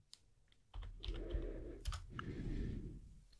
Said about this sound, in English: I'm going to type yes to accept that I want this to be added to my host's file.